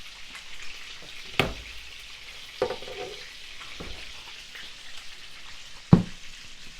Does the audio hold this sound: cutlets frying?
yes